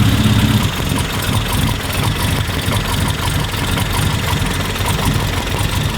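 A Mini engine idles with its vacuum advance disconnected, a loud, steady, slightly uneven rumble close by with a faint knocking texture and no voices.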